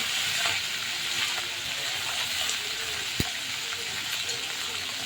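Mustard seeds, curry leaves and green chilies sizzle in ghee for a ghee upma, a steady close crackling hiss with a single sharp tap of a utensil partway through.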